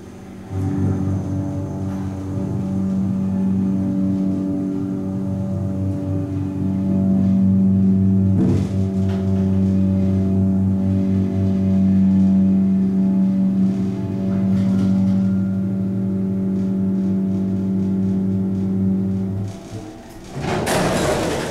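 A Westinghouse/Schindler hydraulic elevator motor hums steadily for about twenty seconds, a loud, even low drone with a couple of clunks midway, ending in a sharp mechanical thud.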